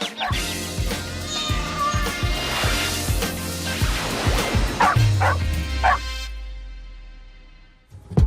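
Several dogs at a dog training center bark in rapid, overlapping bursts, loud and close. Yips and whimpers are mixed in, then the barking fades into a low rumble and near silence.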